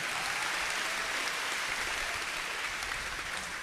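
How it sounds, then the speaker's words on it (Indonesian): An audience at an Indonesian panel discussion applauds a panelist in a continuous, even burst of clapping that fills the whole stretch at a moderate level, with no talking. "Aplaus dulu untuk Mbak Nana ya"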